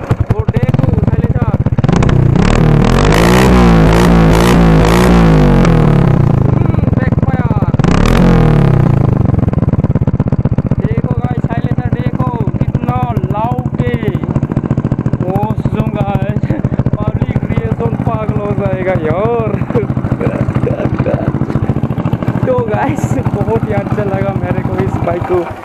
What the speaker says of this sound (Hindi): देखो गाइस एक बार स्टार्ट हो गया हमारा बाइक